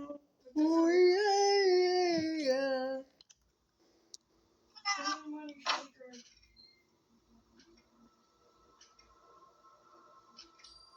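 A single drawn-out meow, loud and close, is followed by a couple of short chirpy sounds and faint clicking in an otherwise quiet space.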